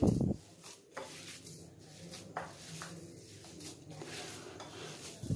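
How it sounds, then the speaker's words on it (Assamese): Spoon stirring saffron into a kalakand mixture in a pan, with soft scraping and clinks of utensil against cookware repeating steadily at close range, with no voices. "এতিয়া ইয়াতে কেশৰখিনি মই মিহলাই দিম। আকৌ ভালকৈ মিক্স কৰিম।"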